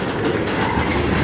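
A slow CN freight train rolls past on the Strathroy Sub, a continuous loud rumble with a steady wheel clatter throughout.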